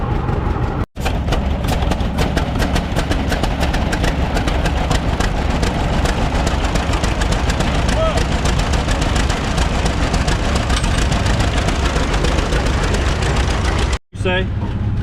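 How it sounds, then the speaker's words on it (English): A 1926 tractor engine runs at a steady, loud rumbling idle close by, with people talking over it and brief cuts in the sound near the start and the end. "that's how he got the tractor started"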